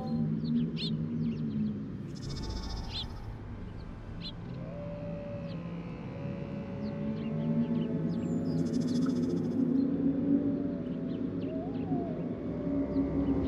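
A chorus of wolves howls in the forest, long overlapping wavering tones drawn out together at a moderate distance with no other sound.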